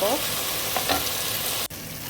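Tomatoes for tomato rice fry in a pan with a steady, close sizzle and a few stirring scrapes, then a brief sharp knock.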